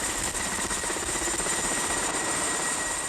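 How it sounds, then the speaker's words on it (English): An Ethiopian army helicopter drones steadily, a dense whirring engine roar with a faint rhythmic blade thump, loud and continuous throughout. "An Ethiopian army helicopter arrives to take the film crew back to Addis Ababa."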